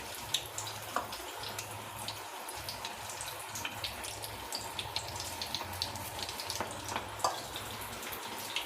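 Spinach pakoda pieces fry in hot oil with a steady, close bubbling hiss throughout, broken by brief splashy crackles and a low background hum, no one speaking.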